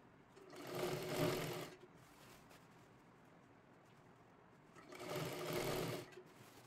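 A sewing machine stitches lehenga fabric for a small girl's dress in two separate runs, each a steady whirring burst of about a second and a half, with a quiet pause between them.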